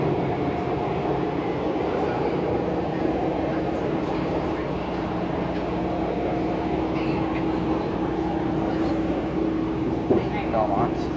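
Chicago Brown Line elevated train running at speed. It makes a steady, loud rumble and roar with a sustained motor whine from inside the car, and a voice sounds faintly over the noise.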